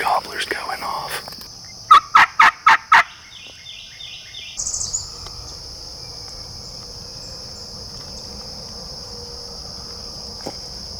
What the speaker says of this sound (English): We got 3 gobblers going off.